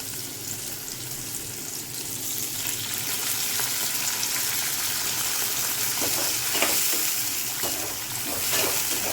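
Green jackfruit kofta sizzle in a pan as a little water is poured in. A close, continuous frying hiss swells with watery bubbling and crackles, growing slightly louder toward the end.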